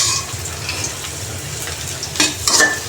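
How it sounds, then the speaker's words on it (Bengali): Dal sizzles in a pan as a phoron spice tempering goes in: a continuous frying hiss with stirring scrapes, then two sharper sizzling bursts near the end. "এখন ডালটা আমি ফুরনে দিব, ফুরনে কি দেই তা আপনারা দেখেন"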